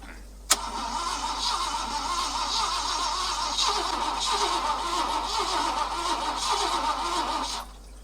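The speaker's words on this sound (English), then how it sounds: "Let's try cranking it right away now." A Ford truck engine cranking and trying to start: a sharp click, then about seven seconds of loud, rough, pulsing cranking and sputtering that cuts off abruptly, with no voices.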